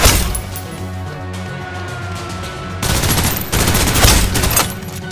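Rapid, dense automatic gunfire from the online shooter Snowbreak: Containment Zone, a sustained loud barrage of bursts over a game soundtrack.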